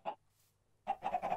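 A Minecraft chicken gives a short cluck, then after a brief pause a quick run of close, choppy clucks.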